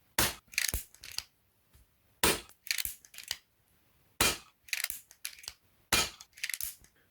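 Quiet, sharp snaps from a Reximex Mito S air pistol fitted with a Huggett Mini Magna moderator and firing 11.9 grain wadcutter pellets, several short clusters of clicks and cracks at close range, each shot followed by bolt and mechanism noise.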